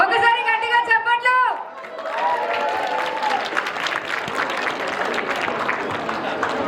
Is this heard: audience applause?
yes